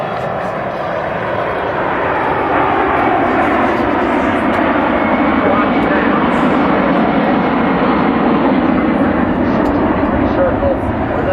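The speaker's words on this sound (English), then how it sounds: "Aircraft is extremely agile at both high and low speeds" An aircraft performs at the Edwards AFB air show, its engines producing a loud, continuous roar that holds steady throughout, with no gaps.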